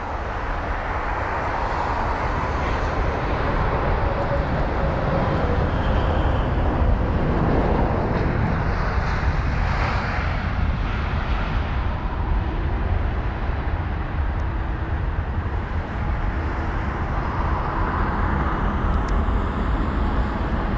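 A Cathay Pacific long-haul jet landing on runway 27R at London Heathrow, heard as a steady, loud, broadband engine roar that rumbles continuously for the full stretch with no talk.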